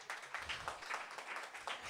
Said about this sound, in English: Let's give Damon just a round of applause really quickly